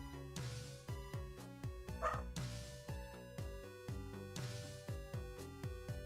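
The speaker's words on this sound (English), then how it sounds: "the dog is not happy." An unhappy dog barks over and over in a quick, insistent series of sharp barks and yips, loud and close, with no voices between them.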